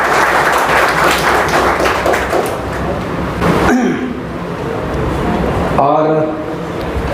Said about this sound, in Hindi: इसके लिए आप ताली बजा कर